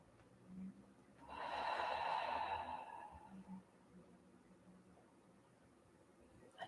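A single deep, breathy exhale rises and fades over a couple of seconds during a standing ankle stretch, close and alone against a quiet hiss.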